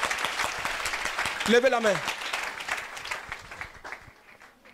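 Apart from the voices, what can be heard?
congregation clapping for the Lord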